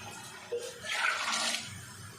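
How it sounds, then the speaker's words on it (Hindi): Leftover chickpea cooking water is poured into a cooking pot for chickpea rice, a short soft splashing pour swelling briefly and then easing off. "आप डाल देंगे ये चनों का पानी जो बचा था, और बाकी का पानी भी इसमें डाल देते हैं।"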